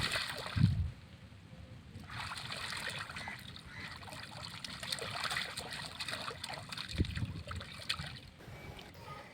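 Children play in a rainwater puddle on a dirt vehicle track, making gentle trickling and sloshing water sounds with two heavier splashes several seconds apart.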